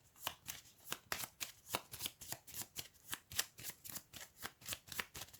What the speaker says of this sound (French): je suis obligé de remélanger